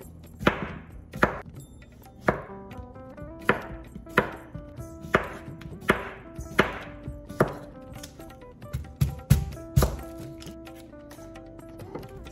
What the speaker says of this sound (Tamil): இந்த முதல்ல நாங்கள் ஸ்லைஸ் பண்ணிக்குவோம்.